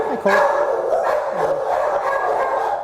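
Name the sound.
dogs barking at an animal shelter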